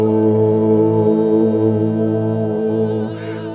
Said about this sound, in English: So now let me use my piano on my phone to pitch my tonic solfa on